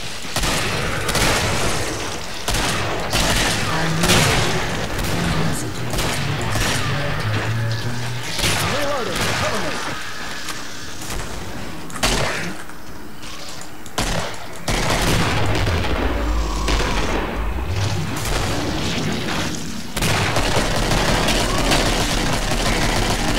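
Gunfire and explosions in Killing Floor, fought aboard a moving train, with repeated shots and heavy booms over a constant rumbling background and occasional talk.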